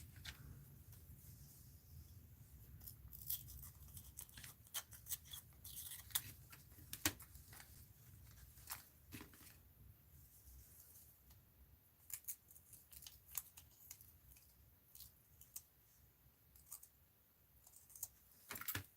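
Scissors trim a paper art card for a mixed-media journal. The snips are faint and irregular, a quick run of small cuts with soft paper rustle in a quiet room.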